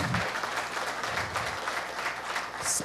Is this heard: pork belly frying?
no